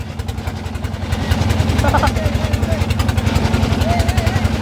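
A trawler boat's engine runs close by on the way from Golaganj toward Sada Pathar, a loud, steady low thudding chug that continues throughout, with faint voices in the background.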